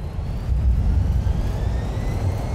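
A Fenix A320 rolls out after touchdown in a flight simulator, giving a loud, steady low rumble of engines and wheels on the runway with no talking.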